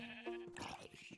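A sheep bleats in the Minecraft video game, a short wavering baa heard up close and fairly clear, lasting about a second.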